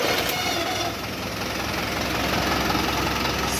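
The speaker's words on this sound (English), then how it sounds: "The engine idling is quite okay." A Toyota Hino N04C diesel engine idles at a steady, even rumble with a faint knocking clatter, heard close by and alone.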